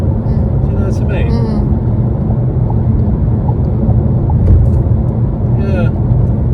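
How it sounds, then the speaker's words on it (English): Low, broad rumble of wind and road noise inside a Renault 5 electric cruising at 70 mph, steady throughout with faint higher squeaks and knocks on top. "A little bit more wind noise than perhaps I would have hoped."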